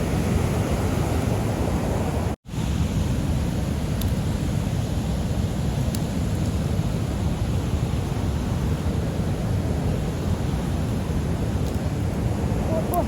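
Rushing water from a Norwegian waterfall roars as a constant, dense wash of noise close by, broken only by a brief dropout near the start.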